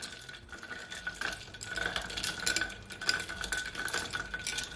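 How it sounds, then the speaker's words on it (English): A straw swirls through cucumber, mint, ginger and lime juice in a glass, giving a soft, continuous clinking and sloshing that is faint and close, with no voices. "I'm gonna take a straw and just mix it all around"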